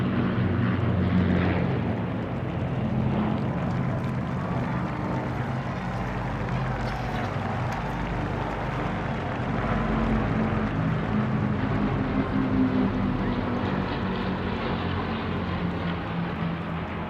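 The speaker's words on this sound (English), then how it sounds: "Unmistakably, a Lancaster, a Hurricane on the left and a Spitfire. Part of the Battle of Britain Memorial Flight." Lancaster bomber, Hurricane and Spitfire from the Battle of Britain Memorial Flight passing over during Trooping the Colour in London, a loud sustained propeller-engine drone with rumbling low end that swells and holds throughout.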